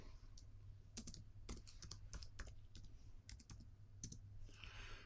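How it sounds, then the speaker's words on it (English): Keys on a computer keyboard are tapped in quick, irregular bursts, crisp clicks close by at a low overall level with brief pauses between strokes. "I need to click on it and to add a comment"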